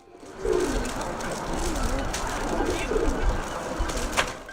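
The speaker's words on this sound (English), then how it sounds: "making the well-known bubbling pigeon call" A pigeon makes its bubbling courtship call, soft warbling coos rolling on for several seconds close by, over steady background noise and faint rustling.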